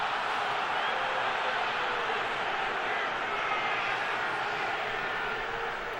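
Football stadium crowd at an NFL game, Indianapolis Colts at Philadelphia Eagles, roars in a steady, dense wash of noise that holds loud and even throughout with no breaks.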